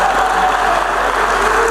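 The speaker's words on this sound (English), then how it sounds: "let us welcome him with a huge round of applause" Audience applause at a BioAsia plenary address, a dense, steady wash of clapping from a large hall crowd that holds evenly throughout without pause or talk.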